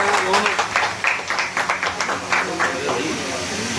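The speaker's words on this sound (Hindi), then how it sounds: "तालियों की गड़गड़ाहट" Applause from an audience at a memorial tribute gathering, a dense rolling patter of many hands that stays steady and fairly loud throughout, with voices mixed in underneath.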